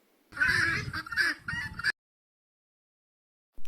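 Harsh, rapid cackling calls of a guinea fowl burst out for about a second and a half, then stop, leaving silence.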